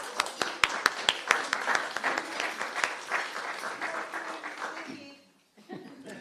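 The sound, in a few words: audience applause for Kim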